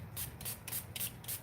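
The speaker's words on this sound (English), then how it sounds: "Let me spray down my thingy now that we're warmed up." A hand-pump spray bottle mists water over an acrylic painting setup, giving five quick hissing bursts in an even rhythm, close and fairly quiet.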